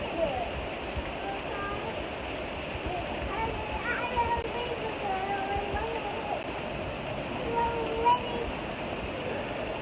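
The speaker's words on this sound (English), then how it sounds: "Not to mention the waterfall coming from the roof here." Heavy rain pours off a roof like a waterfall during a severe thunderstorm, a loud, steady broadband rush of water with faint voices mixed in underneath.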